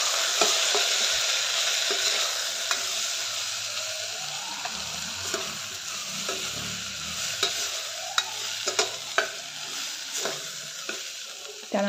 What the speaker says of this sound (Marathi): सर्व मिक्स करून घेऊया आणि चांगलं परतून घेऊया